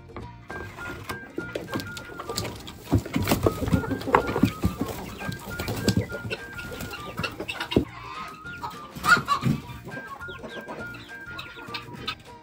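Quail calling inside a farm enclosure, a mix of repeated short chirps and clucks at moderate distance, scattered irregularly over rustling and movement noise, with no talking.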